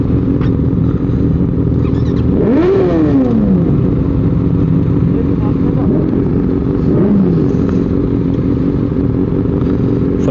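A motorcycle with a loud exhaust on a midnight street ride idles roughly, then gives two sharp revs, a big one early and a smaller one later, close and loud with voices nearby.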